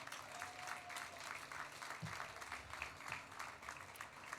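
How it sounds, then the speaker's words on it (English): A festival audience at a Diwali ceremony at Federation Square, Melbourne claps for volunteers in a steady, even wash of applause, moderately distant and fairly soft, with a faint murmur of the crowd underneath. "Please join and give them another round of applause."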